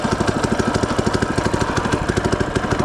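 Small FRP GMB-100 minibike engine with no clutch running steadily close by, a rapid even put-put chugging at idle with slight throttle flutter throughout.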